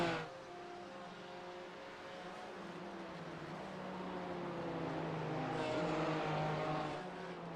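BMW M4 GT4 race cars lap Suzuka in a racing video game, their engines holding a steady, droning roar that rises and shifts pitch as they accelerate. The sound is moderately loud and carries on without a break, with no speech.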